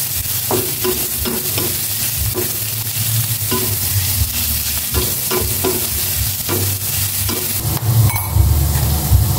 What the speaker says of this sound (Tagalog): Gisa ko lang rin itong ampalaya.